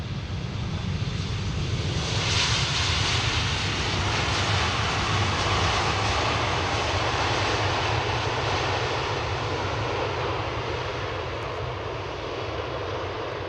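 KLM jet airliner landing on the Polderbaan runway 18R at Amsterdam Schiphol, a loud, steady broadband engine roar with deep rumble that swells early and holds throughout, no talk.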